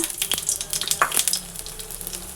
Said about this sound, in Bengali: এবারে ফোড়ন দিব একটা শুকনো লঙ্কা আর কালো জিরা